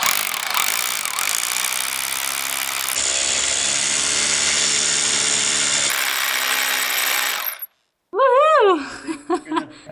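A power drill grinds into a concrete slab in loud, sustained bursts with a sharp change in pitch partway through, then cuts out and is followed by laughter and voices.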